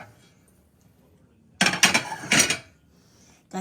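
Plates and dishes clatter together in a burst of close clinking and knocking after a quiet start, followed by a brief final clink.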